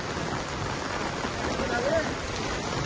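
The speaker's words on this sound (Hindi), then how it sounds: "ये देखिए बहुत खतरनाक बारिश पड़ रही है" Dense, steady heavy rain in Nainital hissing and pattering all around, a constant wash of noise with no breaks.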